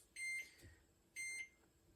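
Two short electronic beeps from a heat press used for dye sublimation, evenly spaced about a second apart, clear and moderately loud over a quiet room.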